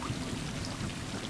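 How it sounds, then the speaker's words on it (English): Steady rain falls in the video game Stray, a dense even hiss that keeps a constant moderate level throughout, with no talking over it. "why every story always have to start with rain?"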